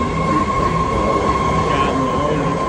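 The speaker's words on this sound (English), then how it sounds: "So you have the train taking off now." A train pulls out of a station in Kenya, its steady loud rolling rumble and a sustained high whine filling the air, with faint chatter nearby.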